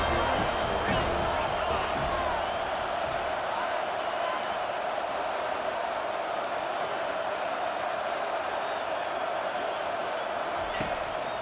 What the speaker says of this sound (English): Third down, and the crowd really getting into it.